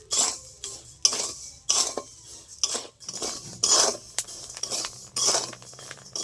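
Puffed rice is stirred while roasting in a pan, a run of rhythmic bright scraping and rattling strokes about once a second, close and fairly loud, with no one talking.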